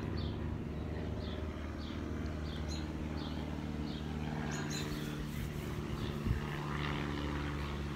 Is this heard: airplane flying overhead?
yes